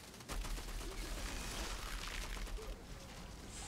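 Gunfire in the video game Outriders, a fairly faint burst of rapid shots and rattling fire that runs almost continuously through a short moment of combat.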